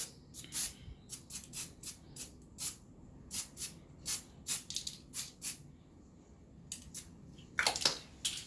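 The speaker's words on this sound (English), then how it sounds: "Spray a little bit on there." Short bursts of spray paint hiss from an aerosol can onto an Xbox One controller, about a dozen quick puffs in an irregular rhythm, close by, with quiet pauses between and a longer double burst near the end.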